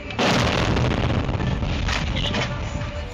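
A loud blast from a bombardment in Ukraine erupts and rolls into a long, rumbling roar with crackling bursts, close and heavy, without any voices.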